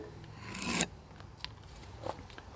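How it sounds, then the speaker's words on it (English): A drawknife is pulled and skewed sideways through walnut wood, giving one short, bright slicing rasp near the start. A few faint scrapes and taps follow in quiet surroundings. "And as I pull back, I'm also going to pull sideways and slice."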